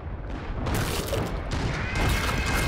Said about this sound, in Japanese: 大砲撃ってる子いる。